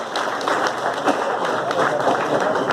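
An audience at a Tamil film producers' association gathering claps together, a busy patter of many hands at moderate loudness with no pauses.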